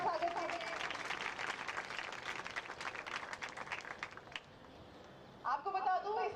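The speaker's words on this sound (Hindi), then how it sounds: "एक बार जोरदार ताली से स्वागत है" Applause and clapping from a crowd welcoming the chief guest at the opening of the 42nd Rajasthan State Senior Women's Football Championship in Jodhpur, a steady dense patter lasting about four seconds before fading.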